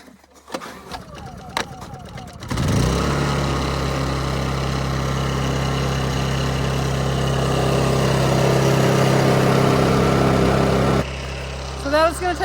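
A Honda EU2200i portable inverter generator starts up and runs with the choke on, giving a steady, loud engine drone that holds for about eight seconds and then cuts off abruptly near the end.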